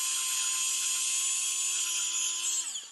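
A Mercmind cordless electric cutter whines steadily at high pitch while trimming a small nub, running close and loud for nearly three seconds before spinning down at the end.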